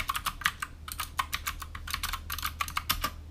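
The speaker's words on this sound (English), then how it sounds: "the switches on this board are Gateron greens" Fast, close typing on a GMMK 104 mechanical keyboard with Gateron Green switches, giving a dense stream of sharp, loud tactile clicks in uneven bursts over a low steady hum.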